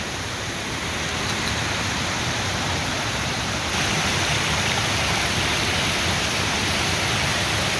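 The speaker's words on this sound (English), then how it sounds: "So we're taking a little detour at the Rathbun Portage to check out the waterfalls." Waterfall at Rathbun Portage in the backcountry, a dense, constant roar of rushing water with no pauses, growing a little louder midway through.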